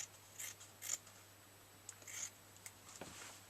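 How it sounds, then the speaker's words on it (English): Scissors snipping along the inner leg seam of a pair of denim jeans, a few short crisp cuts spaced irregularly, close and fairly quiet over a steady low hum. "The next step is to cut up the inner leg seam"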